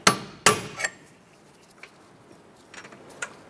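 Hammer strikes a punch driving a lower bolt through the front strut and spring assembly of a 2006-2013 Chevy Impala: two sharp metallic blows and a lighter third in quick succession, then faint scattered taps against quiet.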